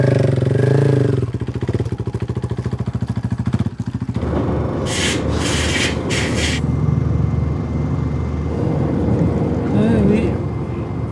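Motorcycle at a Morocco rally bivouac, its engine running loud and close with a steady pulsing idle, then rising into revs, with a few brief clattering bursts over the rumble.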